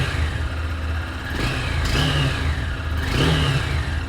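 A Honda Hornet 2.0 motorcycle's exhaust is blipped twice from a steady idle, each rev rising sharply and falling back, loud and close, with no talking.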